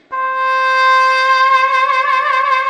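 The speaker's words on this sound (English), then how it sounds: "you can get a very, very realistic trumpet" A physically modeled trumpet played on an iPad app sounds one clean, sustained note that starts abruptly and swells slightly with gentle vibrato toward the end, close and alone.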